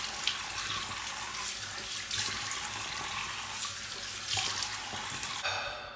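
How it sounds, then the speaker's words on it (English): Tap water runs steadily into a sink while someone washes their face, a continuous splashing stream close to the microphone that shifts slightly as hands move through it, with no talking. "we're gonna wash our face"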